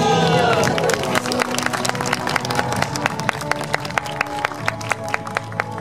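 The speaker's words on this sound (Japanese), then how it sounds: "もしこれ刺さんなかったら皆さん拍手お願いします" Onlookers at a street magic act during the Hakodate street performance festival break into clapping after a brief tonal flourish. Crisp claps settle into a fairly regular rhythm and continue steadily to the end.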